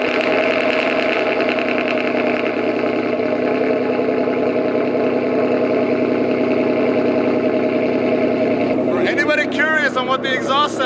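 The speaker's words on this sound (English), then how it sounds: "So let's get you guys a cold start. Don't mind the exhaust, I gotta fix that, they're uneven." Cold start of a 2019 Ford Mustang GT V8 with an uneven exhaust, boarded-up mufflers, straight pipes and catalytic converters: a loud, steady engine rumble throughout, rising into a sharper revving burst near the end.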